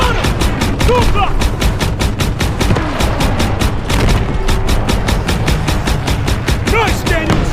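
Rapid WWII-era gunfire in Call of Duty WWII, a relentless run of loud, close shots with occasional heavier booms, while soldiers shout over the battle throughout.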